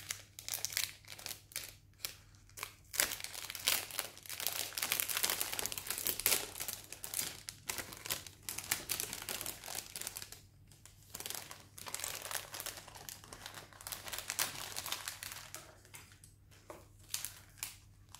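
A parcel being opened by hand, its packaging crinkling and rustling close by in continuous bursts with brief pauses, some tearing and crunching mixed in, over a faint low hum.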